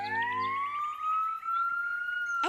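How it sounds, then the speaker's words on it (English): A toy police car plays its police siren sound effect: a single loud, rising electronic wail that climbs and then holds a steady high tone, heard clearly on its own. "A police siren."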